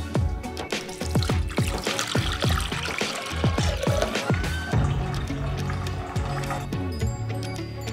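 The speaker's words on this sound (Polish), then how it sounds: "wlewamy po prostu, nie wiem ile, wlejemy litr" Water is poured from a container into a vessel for homemade wine, a close, continuous splashing trickle with gurgles and drips as the level rises.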